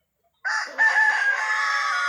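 A rooster crows loudly and close, one long drawn-out call that starts abruptly after silence and holds to the end.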